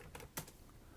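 A couple of quiet keystrokes on a computer keyboard, pressing a Ctrl+F shortcut, two soft clicks within a second, close and faint.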